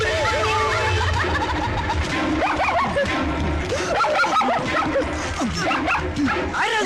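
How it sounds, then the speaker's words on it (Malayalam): A dog barks and yips in bursts through a busy Malayalam film scene, mixed under overlapping voices and background sound. "പട്ടി"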